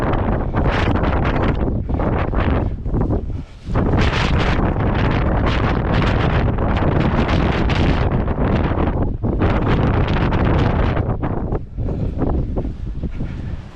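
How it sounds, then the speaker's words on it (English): Strong wind gusts across an exposed hillside at the Walltown crags along Hadrian's Wall, battering the microphone with a loud, continuous roar and a few brief lulls between gusts. "it's just too windy"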